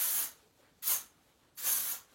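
Three short hissing bursts of Texture Takeover hair texture spray misted onto hair, evenly spaced, close and fairly soft, with quiet pauses between.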